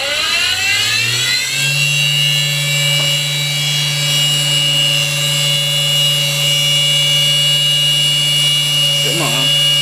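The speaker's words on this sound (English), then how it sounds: "obviously I gotta turn the CNC head on." A CNC spindle head starts up and spins up to speed in under two seconds, then holds a steady high-pitched whine, loud and close, over a constant hum.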